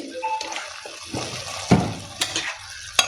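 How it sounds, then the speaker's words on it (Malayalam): Potato and egg avial with curry leaves and coconut oil is gently stirred in a pot, giving a few soft wet scrapes and sharp knocks over about three seconds, close and without voices. "ചെറുതായിട്ട് പൊടിയാതെ ഇതുപോലെ ചെറുതായിട്ട് ഇളക്കി എടുക്കണം"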